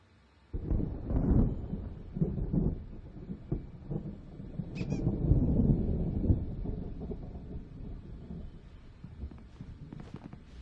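Rumbling thunderstorm in the video game Alan Wake, low rolling booms swelling and fading over about ten seconds, with a sharp crackle midway and gusty wind noise throughout.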